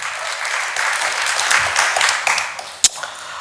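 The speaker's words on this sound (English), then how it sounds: "So let's give them a big round of applause for what they do." A room full of people claps loudly and continuously at a concert, the applause thinning toward the end with one sharp clap standing out.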